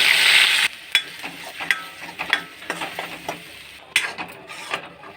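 Onion paste frying in hot oil for a brinjal curry, an initial loud hiss that drops to a lower sizzle, then regular clanks and scrapes of stirring close at hand.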